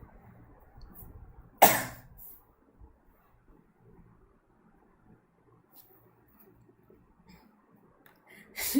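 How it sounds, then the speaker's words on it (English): A child's single sharp cough near the start, then near silence with faint rustles, and another cough cut off at the very end. "my little kid is copying your coughing"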